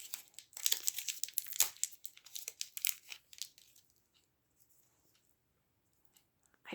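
A paper envelope from a floral subscription box is torn open and handled close by, with bursts of crinkling and tearing for about four seconds before it falls nearly silent.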